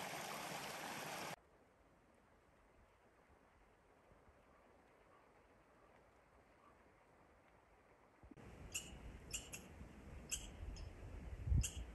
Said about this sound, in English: Little river crossing right here.